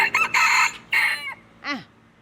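A rooster crows at close range outdoors in the cold mountains of Doi Inthanon, giving short, bright, clipped calls in quick succession. A brief falling squawk follows after a pause.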